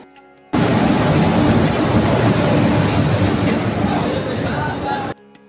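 A loud train roars abruptly into a station, its rumble and rushing noise filling several seconds with faint wheel squeals, then cuts off sharply.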